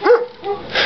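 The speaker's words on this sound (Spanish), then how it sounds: "estos perros de noche acojonan un poco" Dogs barking at night along a rural route, a sharp nearby bark followed by fainter yips and a whimpering tone, brief and distinct against quiet.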